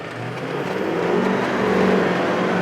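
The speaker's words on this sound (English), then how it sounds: "Let's go for a test drive." A Hummer H1 pulls away on a test drive, its engine a steady, close rumble that builds gradually as the truck accelerates, with no voices over it.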